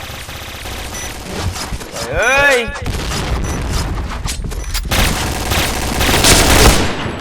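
Bursts of Free Fire video game gunfire and explosions crackle over a dense soundtrack, with someone shouting briefly amid the rapid shots during a clan war match.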